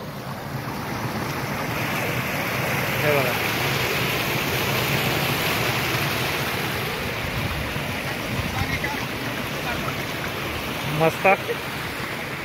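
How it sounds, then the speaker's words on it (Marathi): Water pours like a waterfall over a full dam, making a continuous broad outdoor rush mixed with wind buffeting the microphone, while someone briefly speaks over it. "बघू शकता पाणी मस्त झरण्यासारखं वाहत आहे."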